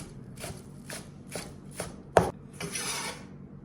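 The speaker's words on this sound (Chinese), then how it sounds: "我们呢再来切点葱花，等一会儿呢备用。" A knife chops green onion tops on a board, giving about six crisp separate strokes in an uneven rhythm, close and fairly quiet, with no voices.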